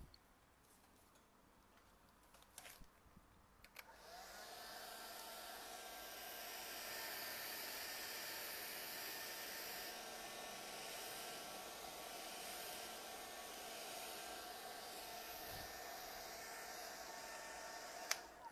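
A hair dryer switches on after a few soft clicks and blows in a steady, even whoosh for over ten seconds, drying a painted wild-rose double switch plate.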